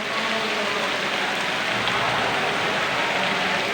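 Steady rain pours down at a vocational school, a dense, even hiss of drops on surfaces that holds constant throughout with no voices.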